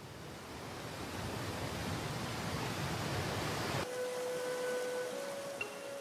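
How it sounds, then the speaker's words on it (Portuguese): Water released from Glen Canyon Dam roars as a broad, steady rush that fills the whole clip, then cuts to a calmer scene where a faint tonal hum sits over the lighter flow. "os engenheiros estão liberando fluxos súbitos de água para imitar cheias naturais na primavera."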